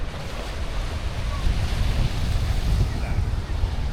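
Ocean surf at a beach on Easter Island at sunset, a steady, loud wash of breaking waves roughened by gusts of wind on the microphone, with no break in the roar.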